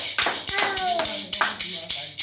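A church congregation bursts into applause, a dense burst of clapping with a few voices calling out over it.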